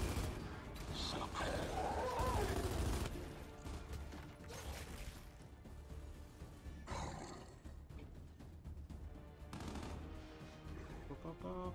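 Gunfire from the Gears 5 shooter game, with bursts of shots and mechanical clatter running under a dense game soundtrack, strongest in the first few seconds and recurring later, with faint voices mixed in.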